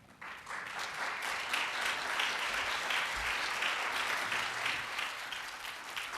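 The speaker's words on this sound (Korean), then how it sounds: "목사님이 등단하실 때 모두 기립하여 박수로 환영하여 주시기 바랍니다." Church congregation rising to its feet with standing applause to welcome a pastor to the pulpit, dense clapping that builds quickly after a quiet start and holds steady throughout.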